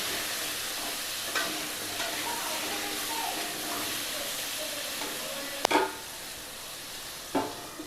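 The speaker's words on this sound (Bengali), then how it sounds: "1 চামচ নুন দিয়ে অল্প একটু হলুদ দিয়ে আস্তে আস্তে নেড়ে ভেজে নেব।" Potatoes fry in a pan with salt and a little turmeric, a steady soft sizzle with occasional sharp scrapes of a spoon as they are slowly stirred.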